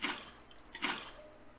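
Water being placed in Minecraft gives two short, soft splashing gushes, one at the start and one near the middle, faint and unaccompanied.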